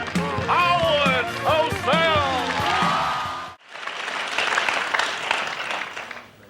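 Studio audience applause on Saturday Night Live swells up after a stretch of voice, then fills the second half as a steady, dense roar of clapping.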